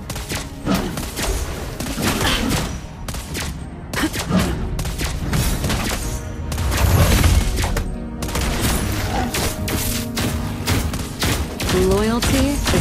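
Gunfire from Lesley, the sniper hero in the Mobile Legends mobile game: dense, rapid shots and impacts that run continuously under music and game effects, with clipped in-game voice lines mixed in.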